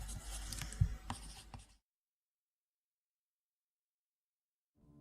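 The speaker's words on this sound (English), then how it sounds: "The sound of her pencil scratching against the paper stilled my mind." A pencil scratching on paper in a visual-novel game, a soft, close rasp of writing strokes lasting under two seconds before cutting to silence, with a faint sound returning at the very end.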